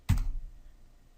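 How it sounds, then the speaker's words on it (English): A single sharp key click on a computer keyboard, close and fairly soft, with a short thump at the start and then quiet room tone. "to delete it, we just highlight it and then click the delete key"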